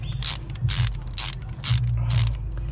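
A hand ratchet tightens diesel injectors, giving five quick bursts of rapid clicking separated by short pauses, close up and clear, with no voices.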